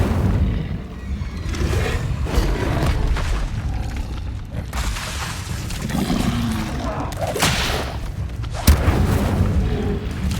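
Incendio fire spell being cast in the Hogwarts Legacy video game amid a dense, rumbling battle din, with booming blasts and whooshing bursts, one sharp crack standing out near the end; a voice is partly heard among the noise.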